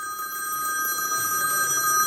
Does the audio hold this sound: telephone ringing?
yes